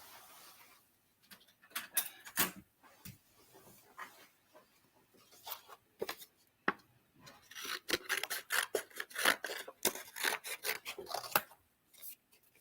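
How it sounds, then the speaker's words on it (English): Scissors snipping a piece off a sheet of infusible ink transfer material, a run of crisp, close cuts coming in uneven bursts, growing denser and louder toward the end. "I'm going to get my scissors and cut a piece off."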